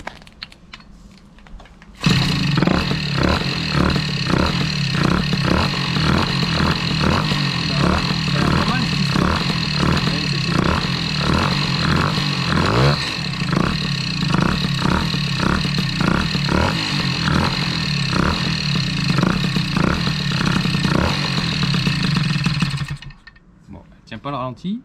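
A Peugeot 103 SP moped engine fires up and runs steadily, a loud, fast buzzing putter that holds for about twenty seconds before cutting off, with no one talking over it.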